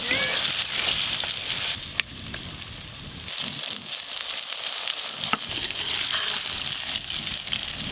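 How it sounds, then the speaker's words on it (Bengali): Kohlrabi pieces fry in hot oil, giving a loud, steady, close sizzle that runs throughout, with a couple of brief clicks from the pan or a spoon. "ওলকপিগুলো লাল লাল করে ভেজে নিয়েছি"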